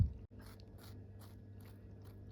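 A crunchy dessert bitten and chewed close up, giving a series of soft crisp crunches at a steady pace over quiet room noise.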